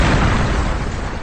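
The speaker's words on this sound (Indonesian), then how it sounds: "mobil itu pun meledak." A car blows up in an Indian film scene, a loud, brief burst of booming roar that fills the moment and fades slightly.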